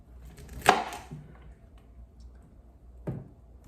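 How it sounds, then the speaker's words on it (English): A knife cuts the stalks off broccoli on a board in two separate sharp chops, the first louder, about two and a half seconds apart, in a quiet room. "cut those stalks off, leave us with the crowns"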